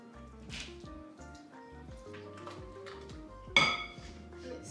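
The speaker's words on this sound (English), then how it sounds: "Mix it all together." Christmas cookie dough mixed in a bowl, with soft scraping, clinking utensil taps and one sharper clatter near the end, quiet and close.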